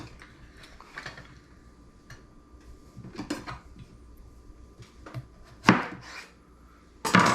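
Knife cutting zucchini into fries on a cutting board, sparse crisp chops and clacks spaced apart, a couple of sharper knocks near the end, quiet room with no talking.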